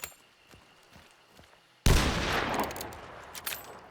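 Explosive special ammunition fired in the game Hunt: Showdown 1896, a single loud close blast at about two seconds that rolls into a long noisy rumble and crackle, with a few sharper pops near the end.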